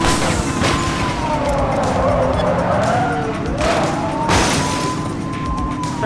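Police car chase in the game The Precinct: a loud, continuous roar of engines and tire noise, with sirens wailing and rising and falling throughout and a harsh skidding burst near the end.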